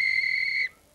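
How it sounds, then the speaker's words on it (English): A train whistle on a heritage railway gives one steady, shrill blast, loud and close, then cuts off sharply after about two-thirds of a second, leaving quiet. "Can I blow your whistle?"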